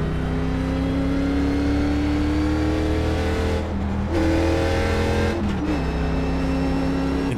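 A NASCAR Chevrolet Impala at Charlotte in iRacing drones loudly and steadily at high revs, its pitch dropping and climbing again with two quick gear shifts.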